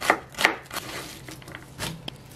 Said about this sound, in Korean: 중간 거 한 개 채썰어 주고요